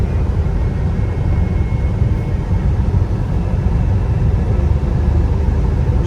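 A 2013 Chevrolet Beat Diesel car drives and accelerates, giving a steady, close, low rumble of road and engine noise with no voices.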